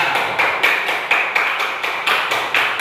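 Classroom applause from a group of young primary pupils, a steady rhythmic clapping in unison with quick regular beats, loud and close, lasting a few seconds.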